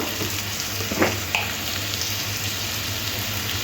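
Pumpkin pieces sizzle steadily as they fry in a pan, a continuous close hiss with a few soft stir clicks, no voices.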